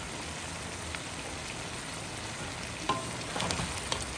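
Noodles with vegetables and pepperoni being stir-fried in a pan, giving a steady close sizzle with a few brief clinks and scrapes of stirring near the end.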